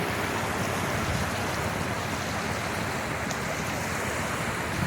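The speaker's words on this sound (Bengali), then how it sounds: "এটা হলো ওই লঞ্চ গেছে লঞ্চের যে ঢেউটা এটা" Waves stirred up on a river by a passing launch boat wash in as a steady, loud rush of churning water with wind noise, continuous and close throughout, with no voices.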